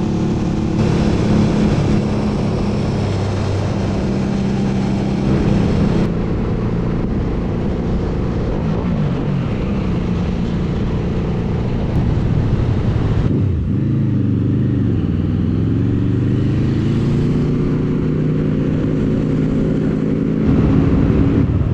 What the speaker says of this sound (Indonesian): supaya sobat sekalian bisa nikmatin suara mesin si QC Motor SRV 600V ini